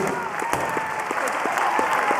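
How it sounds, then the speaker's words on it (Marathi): Audience applause at a Marathi stage felicitation, with continuous crowd clapping throughout and faint voices under the claps. "जोरदार टाळ्या होऊन जाऊ दे"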